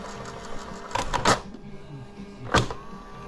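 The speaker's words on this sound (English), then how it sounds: "Rewind, it's working great. Fast forward's working good, nice, quiet, counter's working." Tape deck of a retro VCR running in rewind or fast-forward, a quiet mechanical whir with a cluster of clicks and clunks partway through and another sharp clunk near the end.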